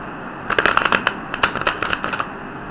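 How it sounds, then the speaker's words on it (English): Deck of playing cards being shuffled, a quick riffle of crisp rapid flutters in two short bursts, close and clear against a quiet room. "Why would you ask me to shuffle the cards for"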